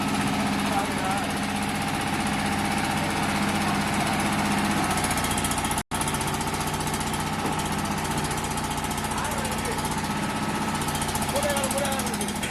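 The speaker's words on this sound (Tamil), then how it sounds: "இந்த டீசல் இன்ஜின் ஃப்ளை ஆஷ் பிரிக் மிஷின் டபுள் பம்ப் உங்களுக்கு" A diesel engine drives a double-pump fly ash brick machine, a loud, steady close-up rumble with constant mechanical clatter, briefly cut off by a near-silent gap midway before resuming unchanged.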